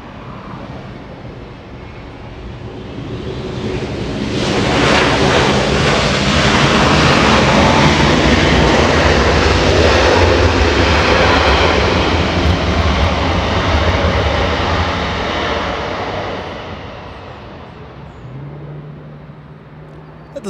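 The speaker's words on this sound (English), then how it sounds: "This is a rare freighter making a north arrival." An ABX Air Boeing 767 freighter arriving from Cincinnati at Los Angeles International Airport roars in as a broad jet rumble, swelling loud over several seconds, holding, then fading as it passes.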